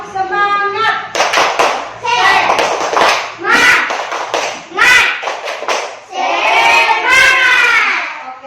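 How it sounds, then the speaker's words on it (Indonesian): Schoolchildren in a classroom stand and do a rhythmic spirit clap, loud bursts of hand claps that alternate with chanted group voices in a patterned call-and-clap sequence. "Kita tepuk semangat dulu."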